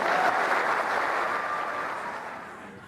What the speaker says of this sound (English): Within our culture, it is okay to clap.